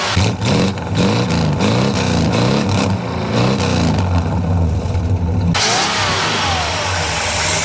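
A 1967 Lincoln Continental engine, long neglected, running steadily at idle, then revving up and down in close, loud pulses before settling into a higher, smoother hum, with no talking.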